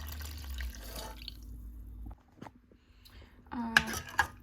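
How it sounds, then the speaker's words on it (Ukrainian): Water is poured into a sauce mixture for lazy cabbage rolls, with a steady close trickle for about two seconds, then sparse drips and light splashes, a few sharp clinks near the end. "і на око розбавляю цю суміш водою"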